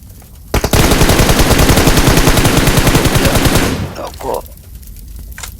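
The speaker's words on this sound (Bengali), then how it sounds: "ফিনিশ দিয়ে দিই এনিমিকে ফায়ার দিই" Automatic gunfire in the video game PUBG Mobile rattles out as one long, loud, rapid burst lasting about three seconds, then cuts off into a short fading tail.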